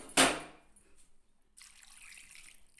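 Water poured over pieces of rui fish, a sharp splashing burst at the start, then quiet, followed by a softer continuous trickle of running water.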